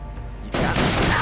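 Gunfire in the video game Metal Gear Solid 3: Snake Eater, a sudden loud burst of shots erupting after a quieter moment and running on as a dense, close fusillade.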